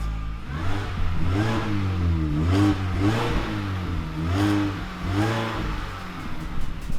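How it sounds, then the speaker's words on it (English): A car engine with stock exhaust revs up and down repeatedly, its pitch rising and falling in several surges over a steady low rumble, loud and close. "we're gonna give you a little before sound clip before we put on the exhaust"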